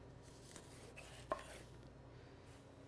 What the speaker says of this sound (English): I'll just slice this side like this from the top